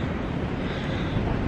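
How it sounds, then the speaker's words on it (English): Strong wind outdoors among trees buffeting the microphone, a constant low roaring rumble close up with no voices. "Really windy out here."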